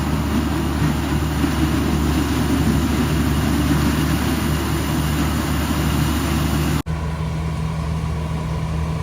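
A tracked harvester's engine runs steadily while cutting maize, a loud, close, continuous low drone with a rough mechanical rumble, briefly cut off by a sudden break and then resuming slightly quieter.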